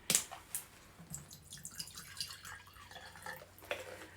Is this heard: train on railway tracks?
no